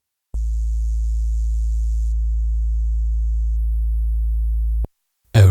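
Techno remix synthesizer bass holds a deep, steady sustained tone for about four seconds with a faint high shimmer that shifts partway through, then cuts off abruptly before a short burst of fuller sound.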